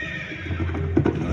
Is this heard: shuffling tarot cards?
no